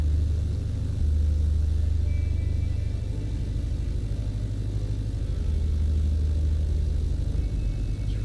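Aircraft engine idling at minimum RPM in Microsoft Flight Simulator, near Ayers Rock Airport at Uluru: a steady, loud, low droning rumble that holds even throughout with no talk over it.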